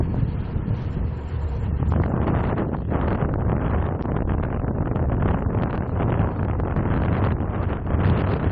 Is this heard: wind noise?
yes